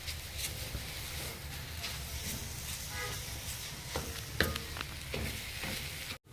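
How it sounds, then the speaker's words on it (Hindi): Grated carrots roast in a pot for gajrela as a spoon stirs them continuously, giving a soft, steady sizzle with scraping strokes and a few sharper knocks against the pot. "तब तक हम इसको इसी तरह भूनते रहेंगे। मुसलसल चमचा जो है वो चलाते रहेंगे।"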